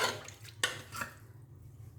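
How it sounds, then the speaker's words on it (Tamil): A spoon stirring lentils with water, salt, turmeric and oil in a pot: faint, quick scraping and clinking against the pot in a few short strokes, close and quiet, with no talk. "நல்லா கலந்து விடுங்க."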